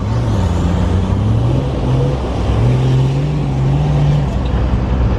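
A 4WD truck drives through a river run in two-wheel drive, its engine droning steadily and loud throughout with a low rising and falling tone and constant wash of water and road noise.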